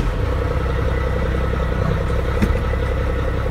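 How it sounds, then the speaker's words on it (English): A Class A truck engine idles steadily at close range with a low, even rumble and a faint rhythmic clatter throughout. "Turn the truck on for that."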